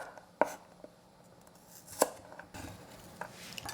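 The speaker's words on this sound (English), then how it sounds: "I just wash this nice, big garlic, and then slice this" A knife slicing a big garlic clove, with two or three sharp, faint chops against a cutting board in a quiet kitchen.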